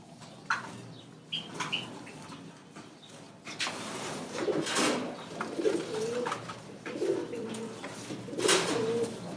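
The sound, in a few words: pigeons cooing in a fancy pigeon loft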